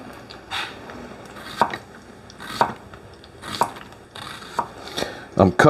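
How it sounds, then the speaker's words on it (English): Onions are sliced thin and long with a knife on a cutting board, giving sharp, evenly spaced chops about once a second, close and fairly loud, each followed by a soft scrape. "I'm cutting these onions really thin and I'm leaving them long."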